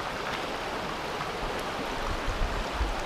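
Little Bear Creek flowing near its confluence with Bear Creek by a bridge off Alvarado Road, a steady broadband wash of running water with slight bubbling surges toward the end, close and continuous, with no voices.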